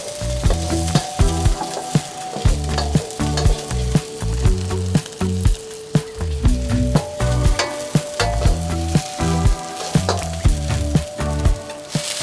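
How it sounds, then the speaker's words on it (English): Garlic, spring onion whites and chilies stir-fried in a wok, loud close sizzling broken by rapid rhythmic scrapes and clanks of a utensil against the metal, repeating throughout with no voices. "add the garlic and whites of the spring onions and chilies. Stir that around for about 15 seconds."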